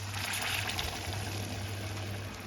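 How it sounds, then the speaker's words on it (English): Stock pours steadily into a pan of fondant potatoes, a soft continuous trickle and hiss over a low kitchen hum, with no talking. "we're going to pour the stock into the potatoes"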